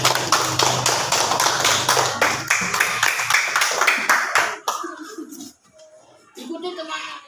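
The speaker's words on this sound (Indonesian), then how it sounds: "Silakan, tepuk tangan untuk Nanda" Schoolchildren in a classroom clap in a quick, regular rhythm of sharp, close claps for a classmate, which stop after a few seconds, leaving scattered young voices and movement.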